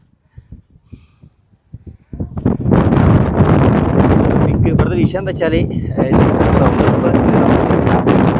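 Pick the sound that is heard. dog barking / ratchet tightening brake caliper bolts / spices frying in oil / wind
wind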